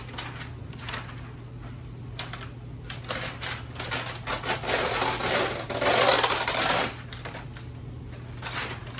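Freezer paper being torn off a roll, waxy side up, while packaging a tenderloin or backstrap: a run of rough, tearing rasps that swells louder toward the end, over a steady low hum.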